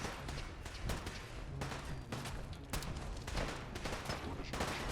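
Rapid automatic turret fire in Fallout 4 crackles in dense, repeated bursts, loud and close, with short pauses between volleys and a faint voice partly under the shooting.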